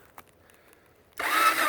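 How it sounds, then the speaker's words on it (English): After near silence, the electric starter of a Honda XR650L motorcycle engine kicks in with a sudden loud, close whirring crank that lasts about half a second. "Let me hit the starter button."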